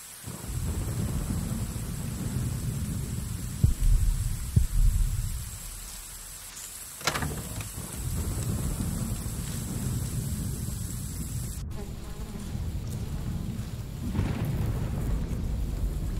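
Steady rain pours down through a thunderstorm, with thunder cracking and rumbling a few times at moderate distance over a constant hiss.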